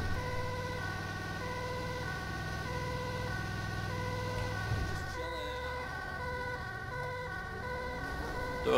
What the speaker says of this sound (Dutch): Dit is dus ook de echte sirene die bij deze ambu hoort.